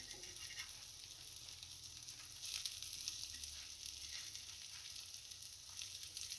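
Meat cutlets fry in a pan with a soft, continuous sizzle, fairly faint and even throughout, with no voices over it.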